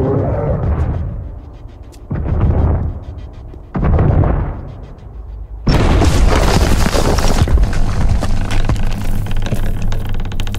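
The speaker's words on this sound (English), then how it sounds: "I need that building destroyed." A building collapses in the Kong Survivor Instinct video game: three loud, deep booming blasts sound a second or two apart, then a sustained roaring crash of crumbling debris carries on to the end.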